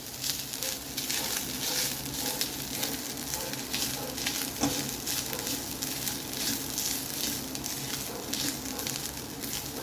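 Fresh grated coconut sautéing in a pan for a Saraswat-style liver dish, a steady sizzling crackle with soft patter and occasional stirring scrapes, moderately close and continuous, no talk.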